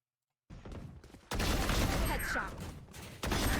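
Bursts of rapid gunfire in a competitive tactical shooter match ring out, with a short volley followed by louder sustained firing that stops abruptly and then resumes, with no one talking.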